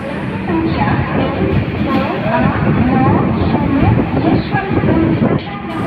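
The Tata–Jaswantpur train at platform 5 of a railway station makes a loud, steady rumble with rail clatter, while people talk over it.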